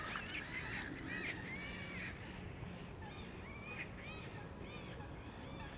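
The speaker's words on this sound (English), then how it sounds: "It's actually really nice here with all the birds and everything." Several birds call and chatter outdoors by a pond, with cawing and honking over a steady background hum of a park.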